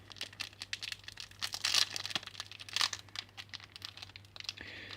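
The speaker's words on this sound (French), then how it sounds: "Et donc on va ouvrir le premier booster" A Yu-Gi-Oh card booster pack is carefully opened by hand, its foil wrapper crinkling and tearing in a steady series of close crackles with a few louder rips, and no talking.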